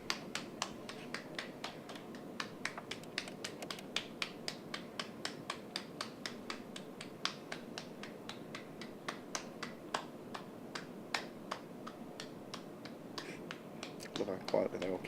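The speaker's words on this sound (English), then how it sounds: "Love how quietly they all clap." A small group in a room gives soft, sparse hand claps, scattered individual snaps that come through as separate quiet taps spread across the whole stretch, with low talk in the background.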